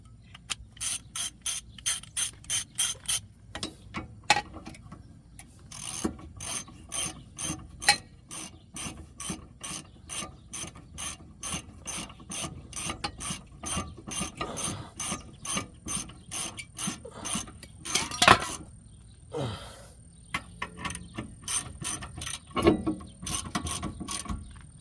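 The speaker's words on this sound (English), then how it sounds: "Apparently I must have abused this ratchet at some time, because it is not functioning very well." A worn, badly functioning ratchet wrench is worked during rear brake pad replacement on a 2002 Nissan Sentra, with rapid bursts of close, sharp clicking, pauses and scraping mechanical rubs, and no talking.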